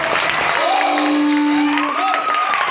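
Steady crowd applause fills the room, continuous and fairly loud, with a tonal whistle-like sweep rising through the middle.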